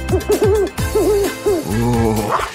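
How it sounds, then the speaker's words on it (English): A squishy little owl toy from the Garten of BanBan game hoots in a series of rounded, wavering calls, loud and close, with short gaps between them and a longer drawn-out hoot at the end. "he's a squishy little owl."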